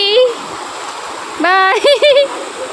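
The Kurumali river in a Kerala village flows with a steady, rushing wash of water in the background, while voices talk loudly over it.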